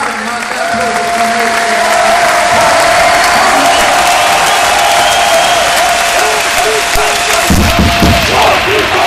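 A standing crowd gives Patrik a warm, loud ovation at a Frölunda club ceremony, sustained dense clapping with scattered cheers and thumps throughout.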